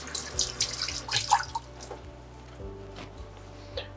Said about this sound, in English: Let me just wash this off.